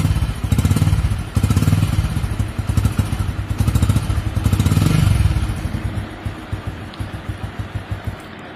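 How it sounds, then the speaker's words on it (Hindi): A motorcycle engine with its real exhaust runs close and loud in a rapid thumping putter, swelling with a couple of revs before settling back into a slower, uneven idle. "देखिए गाइज बाइक के रियल साउंड सुन लीजिए पहले आप।"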